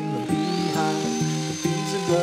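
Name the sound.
router milling slots in wood for hinge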